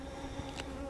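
Honey bees buzz around an open hive frame in a low, steady drone close to the listener, quiet and unbroken, with one brief brushing sound partway through.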